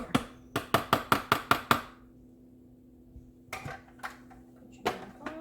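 Food processor blade pulsing through Thanksgiving side-dish ingredients, a quick run of seven sharp rhythmic chops followed by quieter scattered knocks and clatter close by, with a faint steady hum beneath.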